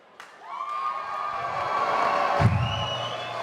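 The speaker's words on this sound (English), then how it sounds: "what do you think of the crowd from Dunedin here tonight?" A crowd cheers and whoops at a fight night event in Dunedin, a sustained roar of voices building and holding throughout, loud and close with a sharp peak near the end.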